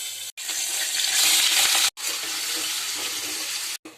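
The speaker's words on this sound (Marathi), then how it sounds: "गरम मसाले टाकलेत फोडणीला, अद्रक लसूण" Loud, steady sizzling of whole garam masala spices with ginger and garlic frying in hot oil for a chicken curry, with a few brief gaps where the hiss cuts out.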